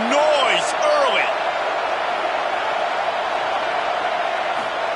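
Dense stadium crowd roar from a college football video game, steady and loud throughout, with a few rising whistle-like tones near the start.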